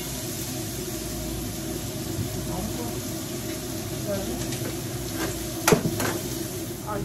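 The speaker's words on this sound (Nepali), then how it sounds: "भिजाएर राखेको माछालाई यहाँ फ्राई गरिदिन्छु ड्राई फ्राई" Soaked dry fish dry-frying in a pan, a steady close sizzle with occasional stirring scrapes, one louder clatter near the end.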